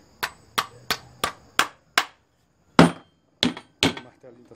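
A hammer drives a nail into wood in a run of sharp, evenly spaced blows, then a short pause and a few more hits, close and loud.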